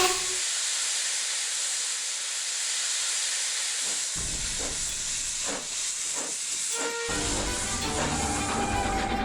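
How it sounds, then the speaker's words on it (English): A steam locomotive gives off a loud, continuous hiss of steam, and mechanical clanks and chuffs build up partway through as it begins to move. A whistle is not clearly distinguishable. "with a blast of his whistle, the train was in motion."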